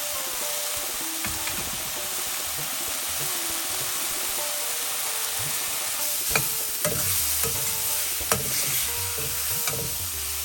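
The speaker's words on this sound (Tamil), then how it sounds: "அது நல்லா கிளறி விடுங்க." Onions stirred in a frying pan for a mushroom pepper fry, with a steady sizzle throughout and spatula scrapes and knocks becoming more frequent and louder toward the end.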